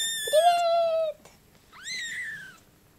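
A newborn kitten lets out two clear, high-pitched meows close by, the first sustained and the second rising and falling, with a short pause between them.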